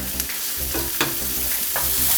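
A pork steak fries in a hot pan at home with a steady close sizzle, broken by a few sharp spatters and stirring clicks, no talking.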